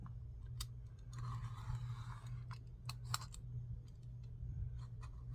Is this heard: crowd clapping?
no